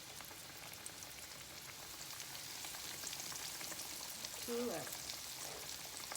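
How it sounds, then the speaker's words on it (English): Steady crackling sizzle of pork chops frying in hot grease, with a brief spoken phrase near the end over the sputtering. "we're gonna get ready to fry these pork chops"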